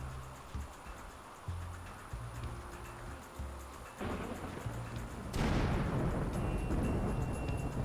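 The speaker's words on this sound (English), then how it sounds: "Almost getting struck by lightning." Thunderstorm with lightning in a dark night-sky scene of a video game: low rumbling with a sharp, loud crack of thunder near the end, followed by heavy sustained rolling noise like pouring rain.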